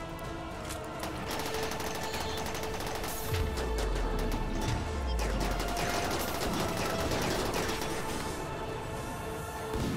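Colonists exchange gunfire in a Rimworld battle with continuous overlapping shots and bursts running the whole time, with a couple of deeper thumps partway through.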